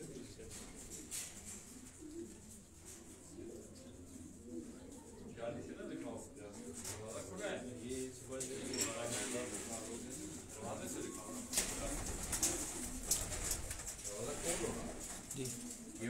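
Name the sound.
pet pigeons cooing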